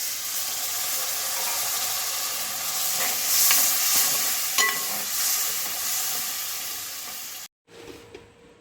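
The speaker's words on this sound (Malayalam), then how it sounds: "നമുക്ക് അതിനകത്തേക്ക് തന്നെ വിനാഗിരി ഒഴിച്ച് കൊടുക്കാം." Beef for pickle frying in a pan gives a loud, steady sizzle, and it flares briefly as vinegar is poured in. The sound then cuts off abruptly near the end, leaving a quieter tail.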